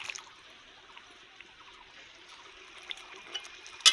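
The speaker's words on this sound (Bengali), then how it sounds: "আমি গরম করা জলটা পরিমাণ মতো দিয়ে দিচ্ছি।" Heated water poured into chicken braising in a pot, cooked rustic village style, a steady soft trickling stream running throughout, fairly quiet, ending with a brief louder splash or clatter.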